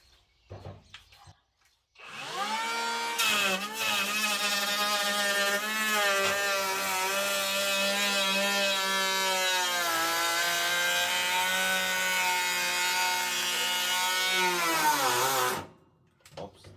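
A Parkside Performance PPHA 20 Li-A1 cordless planer on a 6Ah battery whines steadily cutting wood, its pitch sagging as it hits harder wood before the motor winds down and stalls in the cut.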